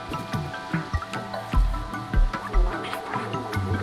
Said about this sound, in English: The soothing sound of trash falling, shimmering waterfalls, no dangers.